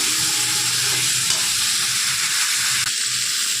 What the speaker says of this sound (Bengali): এই দেখুন সবজিটা একটু তেলের মধ্যে কষিয়ে নিলাম।